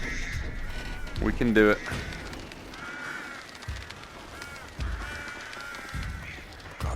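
Crows circle and caw in a PSVR2 virtual reality game, with several harsh calls rising over the game's soundscape while a person talks.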